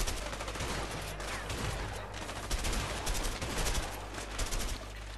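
Rapid gunfire rattles through a firefight in the video game A Way Out, with repeated bursts and loud cracks running continuously over a busy game soundscape.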